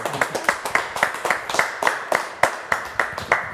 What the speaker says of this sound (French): on va les applaudir quand même